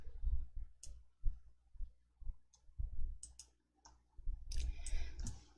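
Computer mouse clicks while working in an Excel spreadsheet: a series of short, crisp clicks at irregular intervals, fairly close, with a faint low hum between them.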